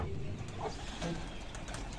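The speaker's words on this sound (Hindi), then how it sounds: "कबूतर भी बाहर निकाल लिए काफ़ी दिनों बाद" Pigeons let out of their loft in a yard give soft low cooing and brief wing flutters, faint against steady background noise.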